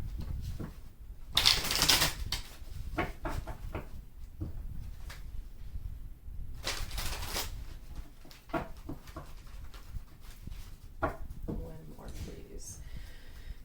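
Tarot cards shuffled in several quick riffling bursts, close by, between stretches of quieter handling and soft speech.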